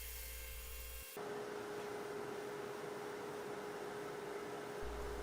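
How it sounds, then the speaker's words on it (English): A steady, close rushing hiss of a 2-inch sanding disc working the neck of a turned walnut vase, continuous for several seconds with no talk. "I'm sanding the neck using my 2" sanding disc."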